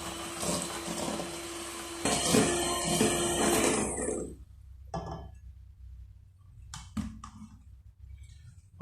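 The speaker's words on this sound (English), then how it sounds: "To this I will now add in our sugar and just whisk it again." An electric whisk beats sugar into Malva pudding batter, whirring loudly for about four seconds before stopping, then a few light clinks of the bowl and utensils.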